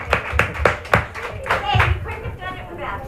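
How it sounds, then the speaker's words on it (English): Scattered clapping from a church service congregation applauding the choir, a handful of nearby claps with voices and chatter mixed in. "Nice round of applause for the choir"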